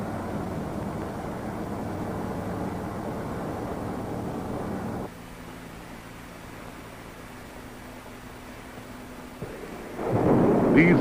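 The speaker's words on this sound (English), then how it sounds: "the engines are primed for light-up" A loud, steady roar of multi-barreled liquid-oxygen and water-alcohol rocket engines rumbles for about five seconds, then drops to a lower droning hum with a faint tonal whine before a harsh burst returns at the end.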